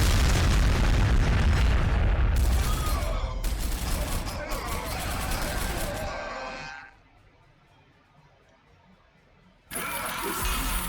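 Ork artillery shelling in Warhammer 40,000: Sanctus Reach, loud booming blasts and rumbling for several seconds, a quiet stretch, then another burst, with a voice speaking over part of it.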